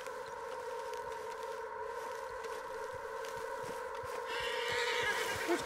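Horse in Red Dead Redemption 2 gives a whinny amid steady game ambience, with soft hoof clops under it and a brief louder rise near the end; no one talks.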